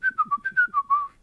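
A person whistles a short melodic phrase of about seven quick notes, close and clear, ending on a longer held tone in a quiet room.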